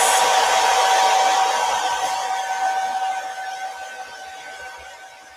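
A close hair dryer blows a loud, steady whoosh with a thin tonal whine over craft bats decorated with a silkscreen transfer. The whoosh slowly fades over a few seconds, and there is no talk.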